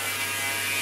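A beard trimmer buzzing steadily up close as it trims facial hair, with an even, continuous motor drone throughout.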